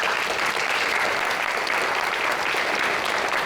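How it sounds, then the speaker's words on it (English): Audience at a city's State of the City address applauding, a dense, steady wash of clapping from a sizable crowd that holds evenly throughout. "Can we give them a round of applause?"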